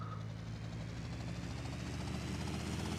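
Helicopter rotor and engine in GTA Trilogy Definitive Edition on Nintendo Switch, a steady loud chopping drone with rapid rhythmic pulses and a low engine hum, with no voices.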